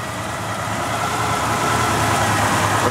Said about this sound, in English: So you can hear how this thing's running, just nice and smooth.